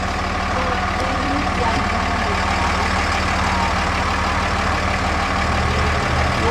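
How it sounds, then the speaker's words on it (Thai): Engines of vehicles stuck in a traffic jam on a Yellowstone road, held up by bison, idle in a constant low rumble close by, unbroken throughout. "อันนี้รถติด"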